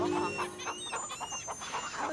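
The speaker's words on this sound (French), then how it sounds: "Après avoir bien mangé, les poules ont pondu quelques œufs." Hens cluck softly in a farming video game, several short overlapping calls at a quiet, steady level with no talk.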